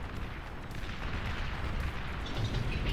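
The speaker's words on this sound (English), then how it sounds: "Strap bombers dropping bombs on the Fiends." Bombers dropping bombs on enemy units in the strategy game Beyond All Reason, a dense rumbling barrage of overlapping explosions that stays loud and continuous throughout.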